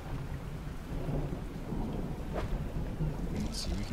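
Thunderstorm in the video game Dredge, with steady rain hissing and a low rumble of thunder rolling under the downpour, plus a brief sharper crack near the middle.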